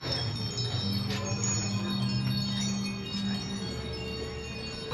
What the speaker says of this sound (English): wind chimes going off.